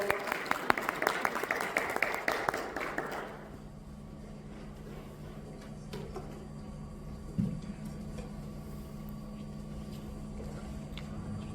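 Applause from an audience at an education awards ceremony in Dubai, marking a Director of the Year win; dense clapping for about three seconds, then quickly fading to quiet room tone with a faint hum and a single bump.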